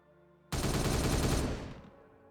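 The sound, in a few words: gunfire in the video game Warhammer 40K Regicide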